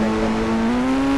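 Engine drone of a Mahindra Thar off-road vehicle in a mobile driving game, a loud, steady tone that rises slightly in pitch as the car accelerates, heard alone with no talk.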